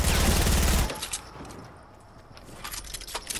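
Loud, dense burst of gunfire in the Fortnite battle, crackling for under a second before dropping to faint scattered clicks and a few more distant shots.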